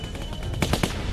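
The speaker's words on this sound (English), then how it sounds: "Kuka siellä jollain AK:lla painaa?" Automatic AK rifle fire in the video game The Walking Dead, a quick burst of several loud cracks over a dense, noisy game background.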